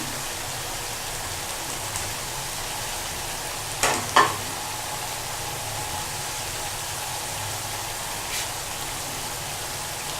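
Steady, quiet sizzling of boneless chicken handi frying after green chillies are added, a soft continuous crackle broken by a couple of brief clinks of a utensil.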